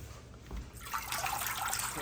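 Kale leaves being washed and soaked in a bowl of water, giving a steady close trickling and sloshing that swells and continues after a quieter first moment.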